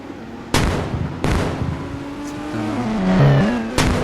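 In the mobile game Indian Bike 3D, a police car arrives with an engine drone and a rising, wavering siren tone, broken by several loud sharp blast-like hits.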